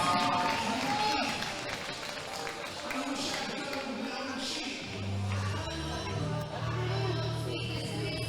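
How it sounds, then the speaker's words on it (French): Audience applause and cheering for a dancer at an amateur women's dance qualification battle, a dense crowd noise spread over the room with music thumping in beneath it, sustained throughout. "Applaudissements pour Lisa,"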